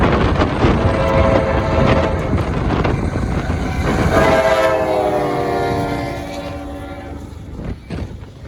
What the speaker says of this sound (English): here comes the train in the snow